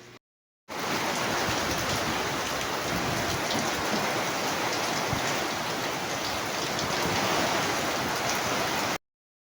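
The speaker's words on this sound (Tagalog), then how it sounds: "talagang napakalakas ng ulan" Heavy tropical rain pours down outdoors during a rainy motorcycle errand, a dense, loud, unbroken hiss that holds steady for about eight seconds and then cuts off, with no voices.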